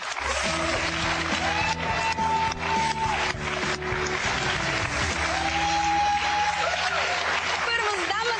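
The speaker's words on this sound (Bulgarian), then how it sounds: "Моля аплодисменти за Моника Балаян и Александър Александров." An audience applauds Monika Balayan and Aleksandar Aleksandrov at a laughter-therapy session, with dense, sustained clapping mixed with tonal music and voices throughout.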